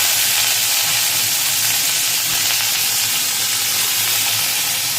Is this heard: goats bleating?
no